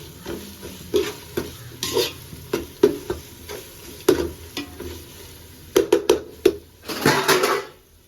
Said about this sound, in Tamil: இஞ்சி பூண்டு பேஸ்ட்டை வந்து நல்லா வதக்கிக்கோங்க.